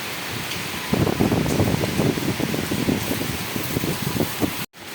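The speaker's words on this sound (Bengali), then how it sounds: "বৃষ্টি এখন এমন পরিমাণ দিচ্ছে," Heavy rain pouring in Gulshan, Dhaka, a steady dense hiss that swells loudly after a quieter first second and holds, with a brief dropout near the end; no one speaks.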